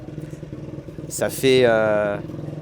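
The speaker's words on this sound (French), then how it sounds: "c'est bien une Moto 3 ça, hein. Ouais, à l'oreille" Moto3 racing motorcycle with a 250cc four-stroke engine at the Lédenon circuit gives one brief, rising rev lasting under a second, set behind steady close conversation.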